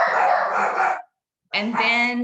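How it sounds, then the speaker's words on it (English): Dogs bark loudly and close in two bursts with a short gap between them, mixed with a voice speaking during an indoor online faculty talk. "I'm so sorry about my dogs"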